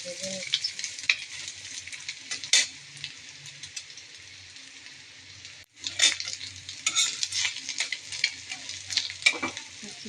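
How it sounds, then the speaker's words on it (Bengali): An egg frying in a pan for khichuri, a steady bright sizzle with scraping stirs and a brief lull partway through, close and alone without talk. "খিচুড়ির সাথে খাওয়া হবে ডিম ভাজা"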